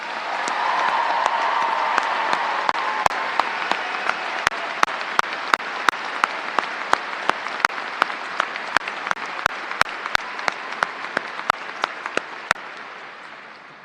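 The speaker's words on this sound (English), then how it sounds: "Please join the seniors and me in thanking them with a round of applause." An audience applauds at a high school commencement ceremony, steady sustained clapping from a large crowd in a big hall. It holds strong for about twelve seconds with sharp individual claps standing out near the front before fading away at the end.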